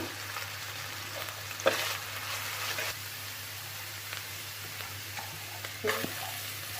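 Masoor lentils frying in a pan with garlic, ginger, salt and turmeric, a steady faint sizzle with occasional louder stirring scrapes, no talking.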